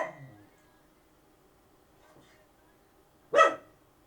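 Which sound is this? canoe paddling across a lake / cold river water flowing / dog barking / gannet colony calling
dog barking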